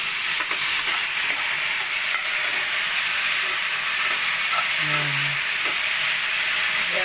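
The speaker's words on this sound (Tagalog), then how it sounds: "Ginigisa po natin sa patis sa bagoong na para bagoong." Taro stems sautéing with fish sauce and shrimp paste in a pan, giving a steady, loud sizzling hiss throughout with faint stirring scrapes.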